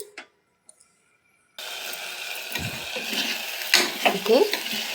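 After a short quiet start, a spoon stirs mushroom pulao rice mixed with masala in a pan, giving a steady sizzling hiss with scraping and clinking strokes toward the end.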